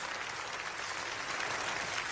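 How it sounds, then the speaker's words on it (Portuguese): A church congregation claps together in sustained, dense applause during a sermon, steady and fairly loud throughout. "pode glorificar o Senhor com palmas"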